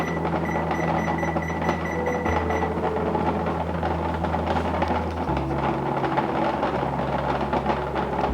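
A kitchen timer beeps in a repeating electronic pattern beside a pot of boiling canning jars, steady and fairly loud over a constant low rumble.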